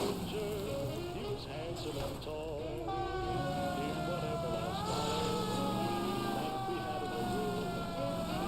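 An ambulance siren in the video game L.A. Noire wails with a steady rising and falling pitch, continuous over traffic noise at moderate level.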